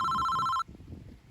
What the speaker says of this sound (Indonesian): Apa telepon iki?